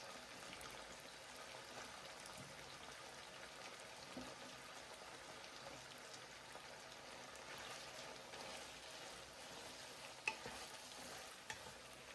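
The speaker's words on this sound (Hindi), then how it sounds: "वेजिटेबल को भी भूनते हुए तकरीबन 5 मिनट हो गए।" Mixed vegetables being stir-fried for Chinese chicken biryani, a faint continuous sizzle with quiet stirring and an occasional small clink, heard alone.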